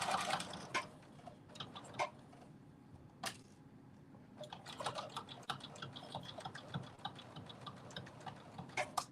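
Sewing machine stitching in short, rapid bursts of quiet mechanical ticking and clatter, starting and stopping in an otherwise quiet room.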